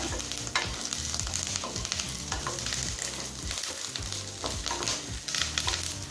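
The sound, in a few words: curry leaves sautéing in pan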